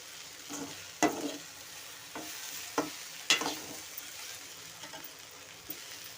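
Okra stir-fry sizzling in a pan, with a steady soft frying hiss broken by several sharp stirring scrapes and clacks of a spoon against the pan, close and moderately loud with no talk.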